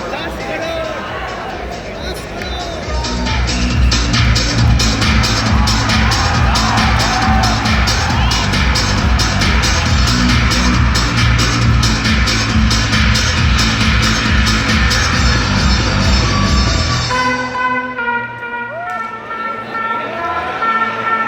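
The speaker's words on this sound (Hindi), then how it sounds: "चलिए जोरदार ताली होनी चाहिए इस बच्चे के लिए।" A classroom audience claps and cheers loudly for a student, sustained applause with whoops that swells and holds for several seconds before tapering off, with a voice speaking over the tail.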